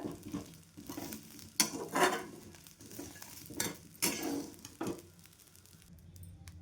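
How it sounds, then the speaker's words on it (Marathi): Indian gooseberries (amla) roasting in salt in a pan, giving a soft crackle with occasional louder scraping stirs and clinks against the pan at a few moments, close and fairly quiet. "आत्ता तर थोडे आवळे आपले भाजत आहे"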